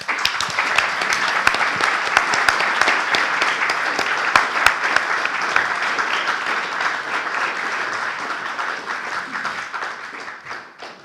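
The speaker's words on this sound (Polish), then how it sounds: "Brawa dla laureata." Sustained applause from an audience honouring the literary prize laureate Marek A. Cichocki for his book Północ i Południe, dense and steady for about eleven seconds before easing slightly at the end.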